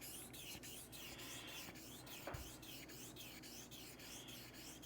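A corroded, oxidized knife edge is stroked across a honing stone in a steady series of quiet rasping rubs, each pass a brief scrape repeating at an even rhythm, faint and close with no speech.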